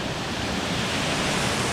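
A river rushes steadily on a waterfall trek in Vietnam, a dense, constant roar of water filling the scene without pause, with no voices over it.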